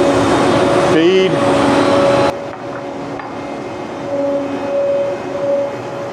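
An industrial planer's bottom head bites into sawmill lumber to re-flatten its underside, a loud machine roar with a short whining pulse that then drops to a steadier lower running hum.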